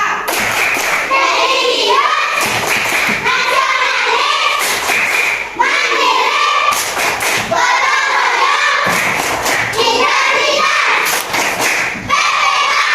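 A class of children in a classroom doing the PPK clapping routine, a rhythmic chant, led by their teacher, with sharp grouped claps and thumps in repeating bursts between lines of children's chanting voices.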